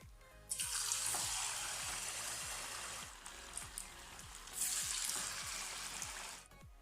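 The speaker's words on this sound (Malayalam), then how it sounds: "ഓയിൽ ഇവിടെ ചൂടായി വന്നിട്ടുണ്ട്. അപ്പോൾ ആദ്യം വലിയ സ്ലൈസ് ഇട്ടുകൊണ്ട് ഫ്രൈ ചെയ്തെടുക്കാം." Large banana slices hit hot oil for Kerala pazham pori and fry with a steady bubbling sizzle, a burst as each slice drops in, alone and fairly close.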